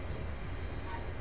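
A train in Train Simulator 2015 on the Glasgow Airport Rail Link rumbles along with a steady low drone and dense rail noise, continuous and close.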